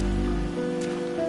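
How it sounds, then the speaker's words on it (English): Rain patters steadily in the game Wuthering Waves, a dense close hiss of falling drops layered with a low sustained musical drone, with no voices. "But today's rain feels different."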